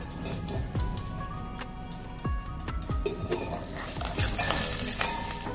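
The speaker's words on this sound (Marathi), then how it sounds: "तर तिला मी अशाच पद्धतीने तळून घेणार आहे" Ingredients for corn poha chivda sizzling and frying in a covered pan, with steady crackling hiss, scraping stirs and occasional utensil clinks against the pan, loud and close.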